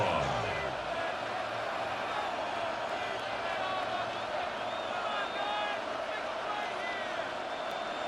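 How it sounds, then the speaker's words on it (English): Stadium crowd noise in the Madden 26 American football video game, a steady, distant roar of fans that holds at an even level throughout. "This crowd turning up the decibel level."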